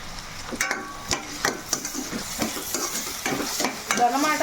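Onion paste frying and being stirred in a pan for a fish curry with curry leaves, a steady sizzle broken by sharp spatula scrapes and taps against the pan, close, with no talk.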